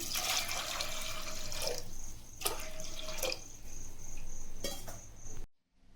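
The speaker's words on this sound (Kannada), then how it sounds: "ಇದಕ್ಕೆ ಸ್ವಲ್ಪ ನಾನು ನೀರು ಹಾಕ್ಕೊಳ್ತಾ ಇದ್ದೀನಿ." Water pours steadily into a metal pressure cooker holding chickpeas for several seconds, a bright splashing hiss with a few clinks, ending abruptly in silence.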